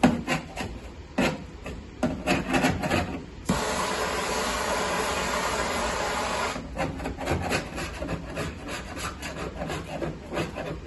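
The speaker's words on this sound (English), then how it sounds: "Use a bit of heat on some filler, you can sort of flake it off." Heated body filler scraped and flaked off a Jaguar XJ12 Coupe rear valance panel, heard as close rasping, rubbing scrapes in short bursts around a longer continuous scraping stretch.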